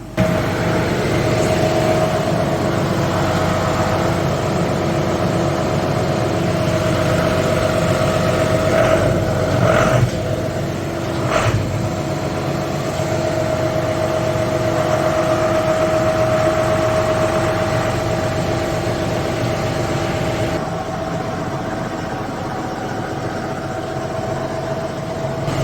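A tractor engine runs steadily at idle nearby, a continuous low hum with a constant pitch throughout, with a few brief clanks partway through.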